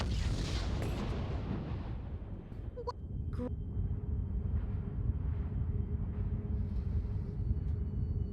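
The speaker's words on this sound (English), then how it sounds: "Like the rockets are just devastating." Rocket explosions in the Star Ocean: Till the End of Time video game, a dense rumbling blast that decays into a low roar, with a couple of sharp clicks partway through.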